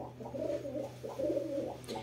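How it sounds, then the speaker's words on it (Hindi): A Makoya pigeon coos close by in two soft, rolling phrases of low throaty notes over a faint background hum. "ये मकोया कबूतर है।"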